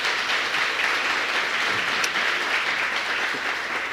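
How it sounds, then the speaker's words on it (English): An audience at a panel discussion breaks into steady, dense applause that holds at an even level throughout, with no speech over it. "That deserves a round of applause."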